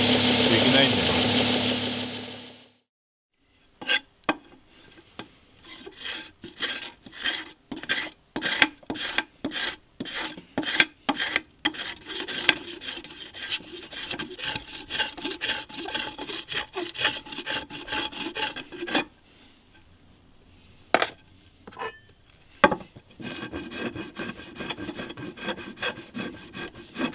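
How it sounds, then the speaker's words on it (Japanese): Close, rhythmic rasping of hand tools shaving and filing wood for a traditional Japanese fishing rod, quick repeated strokes in bursts with brief pauses, preceded by a short loud burst of machine noise. "大体のところを削って、あと細かい作業はやっぱり手作業でやらないとできないんでね"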